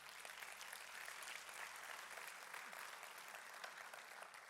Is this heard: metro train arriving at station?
no